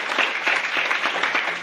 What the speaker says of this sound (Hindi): एक जोरदार तालियां भी उनके लिए मिली।